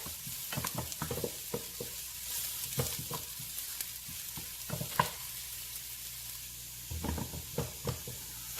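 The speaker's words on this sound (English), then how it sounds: "you want to get the garlic to be a golden brown color" Fresh garlic frying in oil until golden brown, a soft steady sizzle broken by repeated clinks and scrapes of a stirring utensil against the pot.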